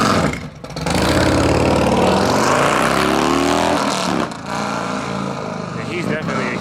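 A 2021 Harley-Davidson Road Glide motorcycle runs loud and close, its engine note sustained and throbbing with a brief dip partway through, while people talk excitedly over it.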